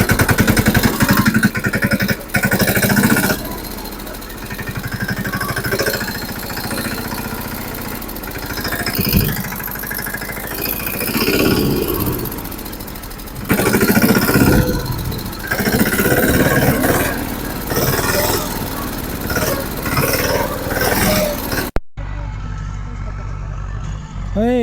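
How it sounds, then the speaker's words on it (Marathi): A tractor engine runs close by in a rural farm setting, a rough mid-pitched mechanical chug that rises and falls with load, ending in a brief cut and quieter idle. "मस्त ट्रॅक्टर चालून एक नंबर वाटलं."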